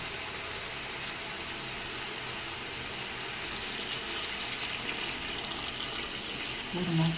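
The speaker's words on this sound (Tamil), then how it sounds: "இப்போ என்ன பண்ண போகிறோம்னா தண்ணி ஊற்ற போகிறோம்" Water runs steadily, a continuous splashing pour into a pot for chicken biryani, about 800 ml, getting slightly louder toward the end.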